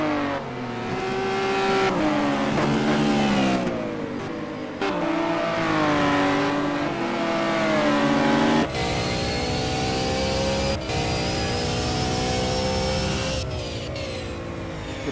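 Race cars in a GT racing video game roar through the final corner, engines revving loud and continuous with shifting pitch and gear changes as several cars pass close by.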